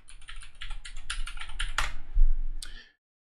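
Rapid, close typing on a computer keyboard with a steady run of light key clicks, ending in a few firmer presses before falling silent.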